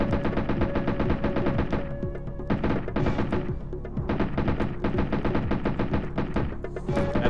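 Gunfire in the SNES Jurassic Park game rattles out in quick, regular bursts of repeated shots with brief gaps between volleys, loud and close, with no talk.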